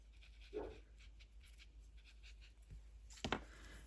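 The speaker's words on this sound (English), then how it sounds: "Sorry about the dogs. They, for some reason, they're barking at everything lately." Dogs panting and giving a soft bark or two in a room where paper collage crafting is under way, close by and fairly quiet, with a sharper burst near the end.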